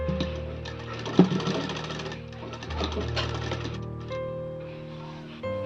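Sewing machine stitching a kaftan nightie, a steady continuous hum running the whole time with a brief clunk early on and slight shifts in pitch as the seam progresses, fairly close.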